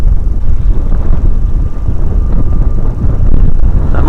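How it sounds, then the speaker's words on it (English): Strong wind buffets the microphone in a continuous low roar beside the River Humber at night, gusting loudly throughout with no voices. "It's getting a bit windy"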